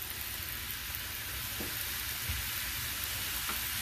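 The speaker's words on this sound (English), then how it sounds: "Onions, we'll just saute it for about 1 minute and so." Onions and curry leaves sauté in a pan with a steady, broadband sizzle that holds evenly throughout, close and moderately loud, with occasional faint stirring scrapes and no voices.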